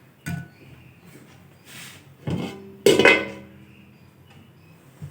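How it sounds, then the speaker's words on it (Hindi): Curry pakora served into a bowl: a few clinks and knocks of a spoon against a dish, one sharper ringing metallic strike standing out, with quiet gaps between. "तो चलिए अब हम कड़ी को डिश आउट करते हैं।"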